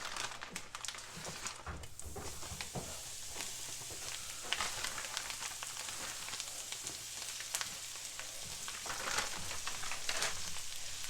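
Wild poke greens frying in a hot frying pan, a continuous crackling sizzle with bursts of popping and occasional stirring rustles, close and steady throughout.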